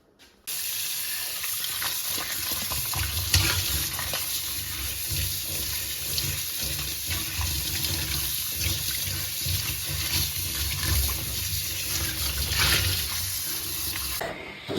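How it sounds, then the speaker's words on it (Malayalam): Tap water runs steadily into a sink while potatoes are rinsed, a constant rushing splash with faint handling noises, no talking. "ഇനി നന്നായിട്ട് കഴുകിയെടുക്കാം കേട്ടോ."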